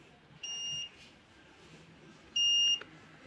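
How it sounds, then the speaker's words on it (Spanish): A microcontroller start alarm in a lab project sounds two short electronic beeps, each clear and high-pitched, with the second slightly louder, over quiet background hum and no voices. "Entonces nuevamente la alarma de inicio."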